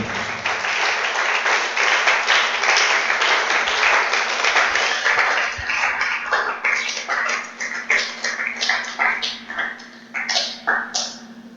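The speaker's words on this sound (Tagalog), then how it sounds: "Gaya ba mahina ang palakpak nyo?" Church congregation applauding: dense, loud clapping that thins into scattered individual claps toward the end, with a steady low hum beneath.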